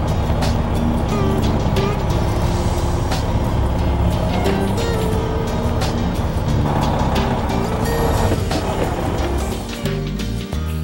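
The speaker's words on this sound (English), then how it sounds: "And then we'll go ahead and back the coach up onto it." A motorcoach engine runs steadily and loudly throughout as the RV backs up onto leveling blocks, a constant low rumble with no letup and no talk.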